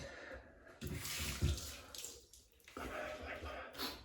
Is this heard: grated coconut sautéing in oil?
no